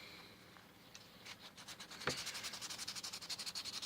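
A tobacco pipe is hand sanded. Sparse scratches give way to a steady back-and-forth rhythm of quick, close, rasping strokes that grow louder toward the end, with no talking.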